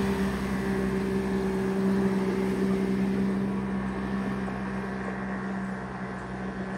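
A 1961 Lyman 20-foot wooden runabout motors along on its sea trial, its inboard engine giving a steady low drone that holds an even level throughout with wind and water noise, no voices.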